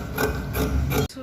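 Scissors cutting fabric for a mermaid skirt with a tail, a steady rasping, rubbing sound of blades moving through cloth for about a second before stopping abruptly, close and fairly loud with no talking.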